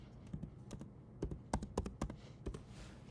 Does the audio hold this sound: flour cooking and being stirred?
no